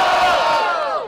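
Brief, loud burst of crowd cheering and shouting at a semifinal freestyle rap battle in Cabo Frio, many voices roaring together before tailing off.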